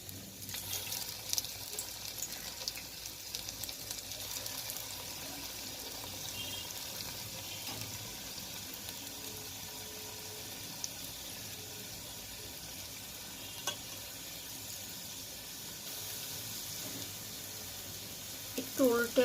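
Small singaras deep-fry in oil in a kadai, a continuous low bubbling hiss held steady throughout, with faint occasional clinks and some soft talking in the background.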